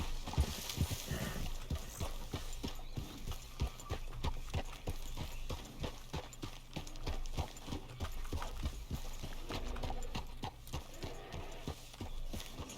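Horse hooves clip-clop steadily in Red Dead Redemption 2, a continuous even rhythm of close, fairly loud hoofbeats with an occasional faint whinny and scattered voices.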